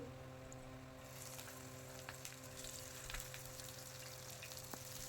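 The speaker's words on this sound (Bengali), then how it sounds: "এখানে আমি মশলাগুলো মাখিয়ে নিচ্ছি মাছের মধ্যে তারপরে আমি এই যে ভাজতে দিয়ে দিচ্ছি" Marinated fish frying in oil in a village kitchen, a steady low crackling sizzle that rises after the first second and holds at a moderate, fairly quiet level with no voices.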